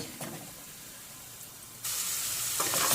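Washed carrots sautéing in a little oil in a pan: a quiet kitchen backdrop gives way to a loud, steady sizzling hiss that jumps up suddenly partway through and holds to the end, with no voices.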